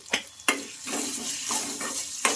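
A spoon stirs tomato curry with chili powder and coriander powder in a frying pan, giving a steady close sizzle broken by several sharp scrapes and clinks against the pan, with no talking.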